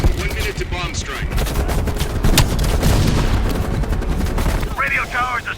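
Sustained gunfire rattles through a Call of Duty: Black Ops Cold War battle, a dense run of sharp shots with booming impacts, loud and close, with a voice speaking briefly near the end.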